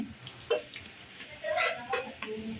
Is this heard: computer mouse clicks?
no